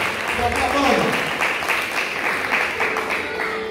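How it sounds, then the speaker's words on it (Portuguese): A church congregation applauds during a worship service, producing a steady, dense wash of clapping from many hands that fills the room, with a voice faintly audible beneath it. "Dê um aplauso a Jesus aí."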